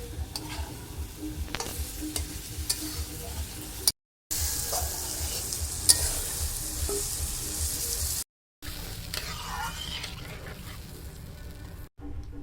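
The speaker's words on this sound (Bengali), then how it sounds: "ভেজে রাখা আলুগুলো দিয়ে দেবো। ভালো করে কষাবো।" Pre-fried potatoes stir-fried in a pan for a homemade kachori and chana masala meal, with steady sizzling and the scrape of a spatula stirring. A few brief silent gaps break up the sound.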